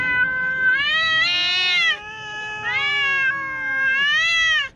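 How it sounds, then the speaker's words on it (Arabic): A cat screams in loud, repeated distress yowls: two long, wavering, rising-and-falling cries with a brief dip between them. It is close and harsh, with no talking. "إن الصراخ صوت قوي ومتكرر يمكن للقطط أن تصدره عندما تشعر بالضيق أو الألم أو الإجهاد"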